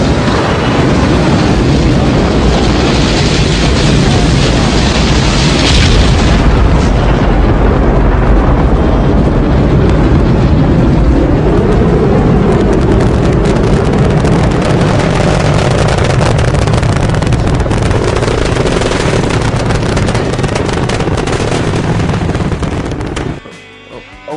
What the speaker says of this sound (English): Ignition sequence start. 6, 5, 4, 3, 2, 1. 0. All engine running.